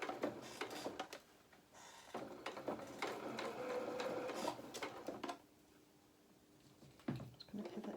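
A home sewing machine runs in short, fairly quiet bursts while stitching the hem of a doll shirt, with pauses and small handling clicks between runs.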